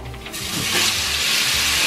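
Filet mignon hits a smoking-hot oiled pan and bursts into a loud, steady sizzle that swells within a moment and holds close and continuous.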